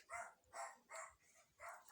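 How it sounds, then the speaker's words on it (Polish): A dog barks in a regular series of four or five sharp woofs, each separated by a short pause, heard faintly from some distance with no talking. "Czemu on tam szczeka?"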